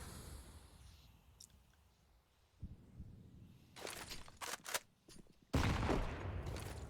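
A CS:GO esports match on the Inferno map carries gunfire, with scattered sharp shots and then a loud, dense burst near the end over quiet game ambience.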